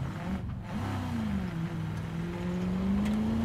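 A car engine in Battlefield Hardline hums steadily and slowly rises in pitch as the vehicle drives and accelerates, close and continuous.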